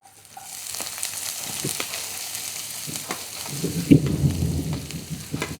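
Sliced onions dropped into hot oil with crushed garlic and ginger, frying in a pan with a steady close sizzle that swells louder partway through, with a few light stirring scrapes.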